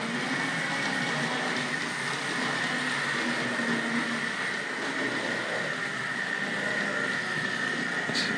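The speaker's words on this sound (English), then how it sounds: "we'll catch up with the locomotive now" A Tri-ang R.153 saddle tank model locomotive runs on its track, giving a steady, continuous whirring motor hum with a faint rolling rattle and no voices.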